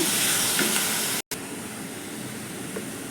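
Amaranth leaves hit hot oil with curry leaves in a pan, giving a loud, steady sizzle and hiss that drops out for an instant, then carries on strongly.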